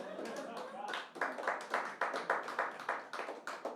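Scattered clapping from a stand-up comedy audience, a few people clapping in uneven rhythm, a dozen or so sharp claps fairly close, with a little talk at the start.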